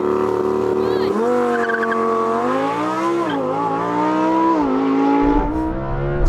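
A Lamborghini Huracan Performante and a Chinese SUV launch off the line in a standing quarter-mile drag race, engines roaring steadily with rising and dipping pitch, loud and close, with a brief tire chirp near the end.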